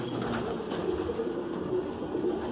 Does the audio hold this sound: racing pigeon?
yes